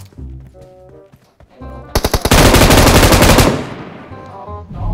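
A machine gun in the mobile game PUBG Mobile fires a quick string of sharp, loud shots, then a sustained roaring burst that fades out, with brief game sounds before and after.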